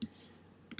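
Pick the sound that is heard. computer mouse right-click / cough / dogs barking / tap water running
computer mouse right-click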